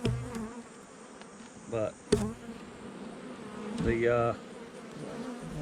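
Honey bees buzz steadily around a hive, a soft close hum under brief bits of speech and a couple of sharp knocks.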